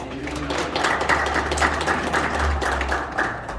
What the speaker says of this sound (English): let's give Denise a round of applause.